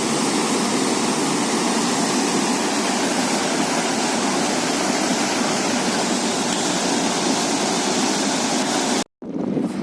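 A snowmelt-fed mountain stream near Rohtang in Manali, Himachal Pradesh, rushes in a steady, loud, close roar of flowing water. The sound cuts out briefly just before the end.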